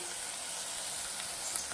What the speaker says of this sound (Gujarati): 3 થી 4 મિનિટ સુધી તેલના અંદર સતળાવા દેશું.